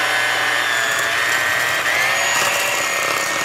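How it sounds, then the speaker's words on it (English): An electric hand mixer whirs continuously and loudly, creaming softened butter with monk fruit sweetener in a bowl, a steady motor drone with no talking. "with a handheld mixer or a KitchenAid mixer,"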